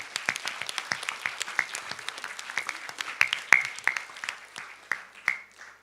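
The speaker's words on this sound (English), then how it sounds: "Let's give him a very big round of applause" A lecture-hall audience applauds at a public lecture, a steady patter of many hands clapping with a few sharper, louder claps standing out, carrying on for several seconds with no talking.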